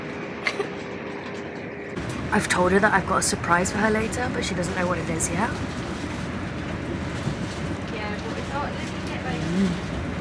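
Steady rumble of a moving train on the rails fills the background while people talk over it close by.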